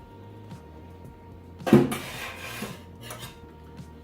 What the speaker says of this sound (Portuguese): eu vou colocar os 2 ovos e uma gema